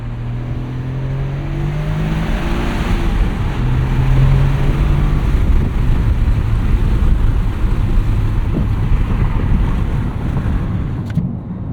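A 2026 Toyota GR Corolla's 300hp engine accelerates hard in second gear with windows down under heavy wind roar and road rumble, loud and continuous, the engine note rising beneath the buffeting.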